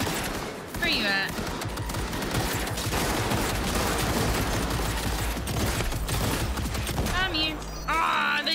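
Continuous turret gunfire in the Cyberpunk 2077 Phantom Liberty video game, a loud unbroken stream of rapid shots for several seconds, with brief whistling effects at the start and end.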